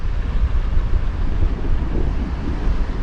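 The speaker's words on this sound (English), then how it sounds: "It's a bit windy" Strong seaside wind on the Norfolk coast buffets the microphone with a continuous loud rumble and roar, no voices heard.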